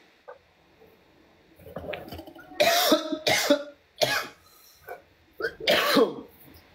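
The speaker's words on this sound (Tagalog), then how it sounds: "Grabe yung ubo mo." A person coughs hard several times in a row, close and loud, the bursts separated by short pauses with a few quieter throat sounds before them.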